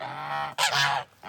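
Geese, including a white Emden, honk loudly and close by, a few harsh nasal calls in quick succession.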